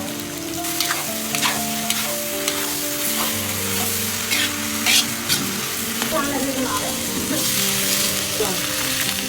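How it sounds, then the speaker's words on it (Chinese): Vegetable seedlings stir-fried in a wok, a loud continuous sizzle with rhythmic stirring scrapes and clatters throughout, alone without talk. "炒的菜苗"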